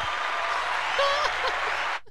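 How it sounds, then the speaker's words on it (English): A short burst of applause plays, steady clapping for about two seconds before cutting off abruptly. "we got applause over here"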